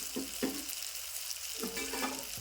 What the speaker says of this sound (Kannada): ಟೊಮಾಟೋ ಅದೆಲ್ಲ ಈಗ ಫ್ರೈ ಫ್ರೈ ಇದಾವೆ